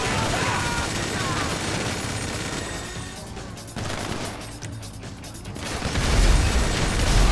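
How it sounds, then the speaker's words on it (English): Rapid minigun fire and repeated explosions from GTA Online gameplay, a dense, loud continuous barrage with a heavy low boom swelling near the end. "Oh! Nice explosions."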